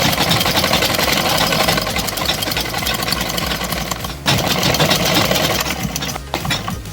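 An electric sewing machine runs steadily, stitching the lower side seam of a kurta: a continuous fast whirring with rapid needle ticking, briefly pausing and restarting once.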